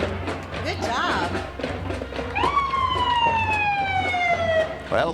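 A wailing emergency siren sounds during a community Founders Day parade in Rancho Cucamonga, sweeping up and then sliding slowly down in pitch, loud and fairly near over steady crowd and street noise.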